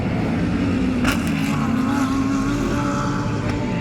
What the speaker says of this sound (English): So right now, this is the warm-up lap for the IMSA race.